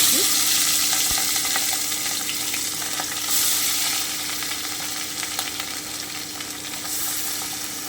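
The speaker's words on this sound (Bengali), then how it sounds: "এবারে আমি মাছগুলোকে দিয়ে দিচ্ছি" Raw Bacha fish hit hot oil in a wok and give a loud, continuous hiss of frying that stays dense and steady throughout.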